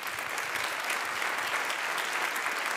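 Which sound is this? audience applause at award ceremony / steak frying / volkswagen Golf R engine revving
audience applause at award ceremony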